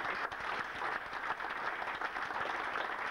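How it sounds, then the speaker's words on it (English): Light applause from a small gathering at a golf club centenary, a soft, steady patter of clapping at modest distance, fairly quiet. "thank you for your applause"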